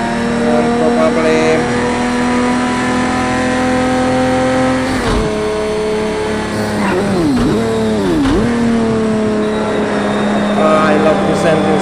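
A 1999 Lamborghini Diablo GTR racing at Bathurst in the Project Cars 2 video game, its engine a loud, steady high-revving drone with brief dips and swoops as gears shift, continuous throughout.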